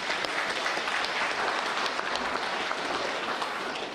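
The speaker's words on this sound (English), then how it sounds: "Can we give them a round of applause?" Audience at a hall event claps in a dense, continuous burst, steady and fairly loud from start to finish with no speech over it.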